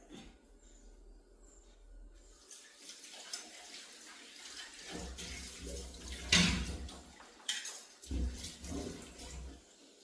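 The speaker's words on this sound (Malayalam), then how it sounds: "കുറച്ച് വെള്ളം എടുത്തിട്ട് വരാം" Water running from a tap as a pot is filled for cooking, heard in intermittent gushing bursts with quieter gaps and some handling clatter, fairly close.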